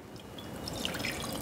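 Water is poured into a glass microwavable bowl, a short, soft splashing trickle heard close up and alone.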